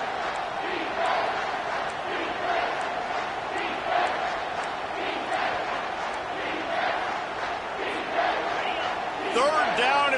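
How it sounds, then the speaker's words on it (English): Stadium crowd in the College Football 25 video game roars steadily and loudly throughout, a dense sustained cheer with no breaks, with a commentator's voice faintly under it. "this crowd will blow out a vocal cord to help this defense"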